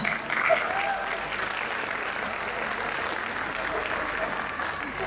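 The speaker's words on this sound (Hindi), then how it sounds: "ये जो मेरे स्वागत में आपने घनघोर तालियां बजाई हैं" Dense, steady applause from a large audience welcoming a poet on stage at a mushaira in Pune, sustained at even loudness throughout.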